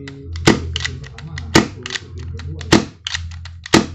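Four sharp, suppressed shots from a Tokyo Marui SOCOM Mk23 airsoft pistol, evenly spaced about a second apart, each a crisp snap with a short thump; mechanical clicks and handling noise fill the gaps.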